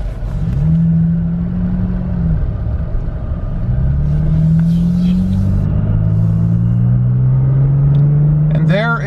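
Toyota Tacoma pickup driving on an open road, a steady engine drone rising and settling through gear changes under constant road rumble, heard from inside the cab.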